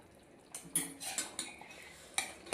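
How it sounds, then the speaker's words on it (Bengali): A spoon stirs ghee and garam masala into a pot of thin mutton and potato curry, giving several sharp metallic clinks and scrapes against the pan at an uneven rhythm, quiet and close. "দেখো ঘি আর গরম মশলাটাও আমি খুব সুন্দরভাবে মিশিয়ে দিচ্ছি"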